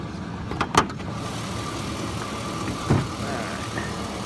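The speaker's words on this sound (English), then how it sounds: "Nice quiet motor." A 2003 Chevrolet Quadrasteer 4x4 truck engine idles quietly and steadily up close, with a couple of brief clicks and knocks over the low hum.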